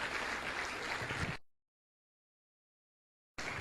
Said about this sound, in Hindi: जोरदार तालियां दोस्तों इन लोगों के लिए।